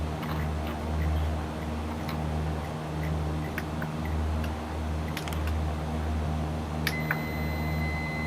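A short electronic autopilot beep from a flight simulator video game as altitude is set to 3,000 feet, sounding over a steady low engine and fan drone, with a brief tone near the end.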